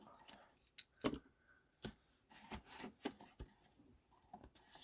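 Tape being cut off a stamped paper craft bag with scissors; a few quiet, close snips and rustles come in irregular bursts.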